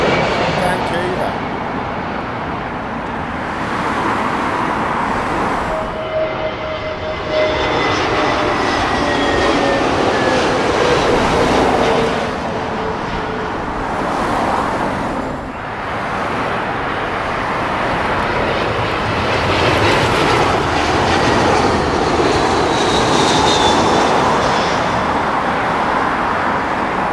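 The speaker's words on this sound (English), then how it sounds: "That is the 787-9 Air Canada coming in from" Air Canada Boeing 787-9 arriving at Heathrow from Vancouver, a loud continuous jet rumble with a rising and falling whine as it passes, under intermittent talk nearby.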